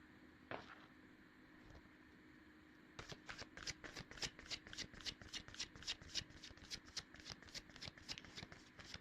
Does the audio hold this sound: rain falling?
no